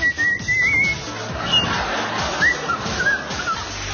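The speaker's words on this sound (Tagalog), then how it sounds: "Pasipol-sipol pa." A person whistles a few short, wavering notes over a noisy background with faint rustling and movement.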